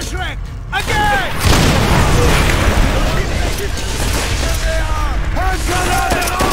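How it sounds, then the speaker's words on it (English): A Panzerschreck rocket launcher fires at a tank amid a battle in Call of Duty: World at War, loud booms and blasts layered over continuous gunfire and shouting voices, with dense battlefield noise throughout. "Another tank! Dimitri, take it down! Fire the Panzerschreck! Again!"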